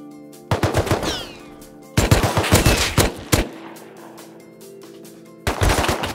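Video game gunfire comes in three loud close bursts of rapid automatic shots separated by brief quiet gaps, with a low steady hum running underneath.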